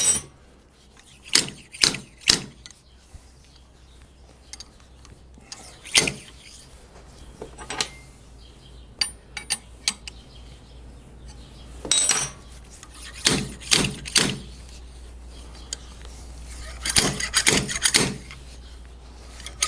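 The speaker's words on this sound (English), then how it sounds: "Been using the same slide hammer a long time." A slide hammer seating a transmission seal gives sharp metallic knocks, some single and some in quick clusters of three or four, spread irregularly over a low steady hum.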